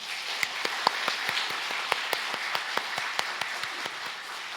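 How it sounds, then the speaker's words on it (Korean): Congregation applause in a church service, a dense wash of many hands clapping at a moderate distance, steady throughout with no voices. "하나님께 영광의 박수 올려드리겠습니다"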